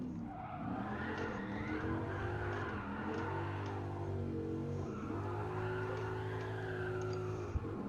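A 2013 Dodge Viper GTS drifting in a time attack racing game, its engine droning steadily while tires squeal and skid through the turns, loud and continuous with no talk.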